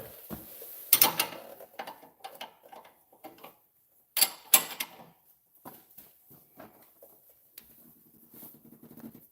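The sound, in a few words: tightening front strut bolts on a 2012 Chevy Malibu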